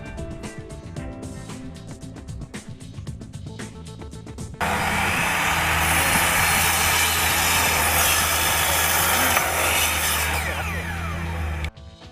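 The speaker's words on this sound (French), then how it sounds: "vous pouvez visser au travers pour les fixer aux lambourdes" A power screwdriver drives screws through decking clips into the joists of a deck: sporadic clicks and short whirs, then a loud sustained whine for about seven seconds that cuts off abruptly, close by.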